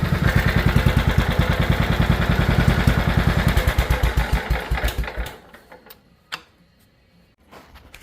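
An engine idles with a loud, even, rapid chugging pulse that slows and fades as it is switched off around the middle, followed by near silence broken by a single knock and faint handling noises.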